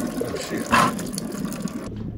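Coolant dripping and trickling from radiators just pulled off a dirt bike during a top-end teardown, a steady wet patter with one louder splash near the middle before it cuts off.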